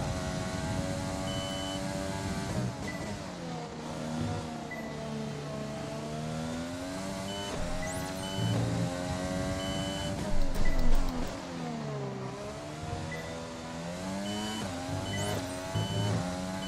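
Formula 1 car in F1 2020 held at full throttle through a corner, its high engine whine sustained and shifting pitch with gear changes, loud and close with a brief tyre squeal, no talking.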